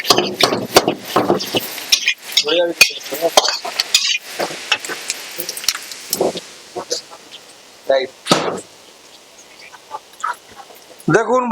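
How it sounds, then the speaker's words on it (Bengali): Cooked rice stirred into a hot pan for mixed fried rice with chicken and prawns, with rapid scraping and sizzling in bursts of clattering strokes, paused twice, while a person talks over it. "বন্ধুরা রাইস দিয়ে দিলাম"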